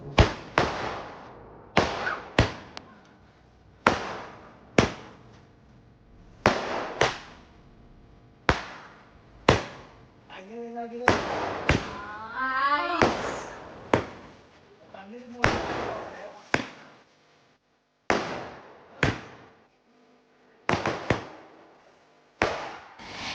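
Fireworks pop during an Eid celebration as a long series of sharp, loud bangs spaced every second or two, each trailing off quickly, with voices chattering in the brief gaps midway.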